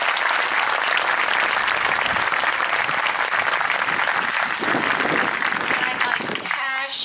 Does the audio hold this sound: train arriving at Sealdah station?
no